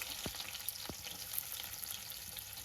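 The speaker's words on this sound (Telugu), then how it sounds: "రెండు స్పూన్ల నూనె వేసుకొని కాగాక ఆనియన్" Onions sizzle and fry in hot oil in a pan for Telugu fish curry (chepala pulusu), a steady hiss with two soft clinks early on, no voices.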